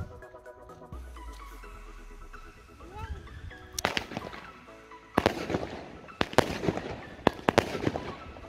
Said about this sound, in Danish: Det er 16 skuds ægbatteri.